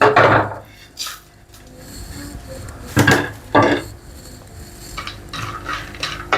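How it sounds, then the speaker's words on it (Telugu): Vermicelli being dry-roasted in a clay pot for payasam, heard as short scraping, stirring bursts of a utensil against the earthenware, spaced irregularly over a quiet background with no talking. "వేయించుకుంటున్నాను"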